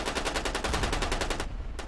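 Rapid automatic gunfire from a weapon in the stick-figure shooter game Ravenfield, a steady loud burst of evenly spaced shots that stops briefly near the end before one more shot.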